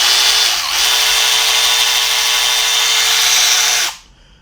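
A Milwaukee 2566-22 high-speed cordless ratchet runs up to full speed with a loud, steady high-pitched whine and motor hum for about four seconds, then stops abruptly.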